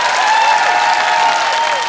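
A TV comedy show studio audience bursts into steady, loud applause that fills the room and holds evenly throughout.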